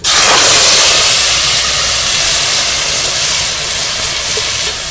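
Loud, intense sizzling hiss as tomato paste hits hot tempering oil in a pan, bursting in abruptly and holding a steady, roaring crackle.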